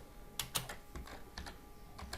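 Quick, irregular keystrokes clatter on a computer keyboard while entering data into an Access database, close and fairly quiet, with short pauses between clusters of taps.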